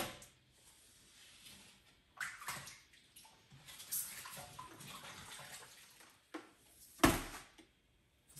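Wet sand scooped by hand tool from a drained Malawi aquarium into a black bucket, heard as a few irregular scraping, splashing scoops with short pauses and one sharper knock near the end, fairly quiet and close.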